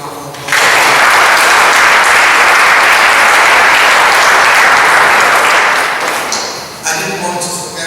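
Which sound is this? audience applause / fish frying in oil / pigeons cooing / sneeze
audience applause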